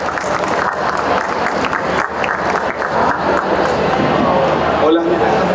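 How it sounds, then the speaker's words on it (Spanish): Audience at a lecture event applauds a speaker arriving on stage, a loud sustained wash of clapping from the crowd with voices and a few shouts mixed in. "a quien les pido recibir con un fuerte aplauso"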